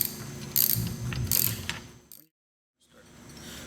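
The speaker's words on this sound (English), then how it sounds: "we're going to tighten it up with the T30" A T30 bit driver tightening a ball joint nut on a VW MK4 steering knuckle while an 18mm wrench holds the nut, giving close rapid ratchet clicking in two bursts before a pause and faint resumed handling.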